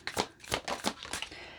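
Tarot cards shuffled by hand, several brisk riffling bursts in quick succession, close and fairly quiet, with no voices.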